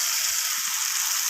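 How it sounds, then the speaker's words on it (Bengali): Fried jackfruit and potato chunks hit hot oil and spice paste in a pan, setting off a steady, bright, hissing sizzle that holds at even loudness through the whole short stretch. "এখন আমি ভেজে রাখা এঁচোড় আর আলুটাকে দিয়ে দেব।"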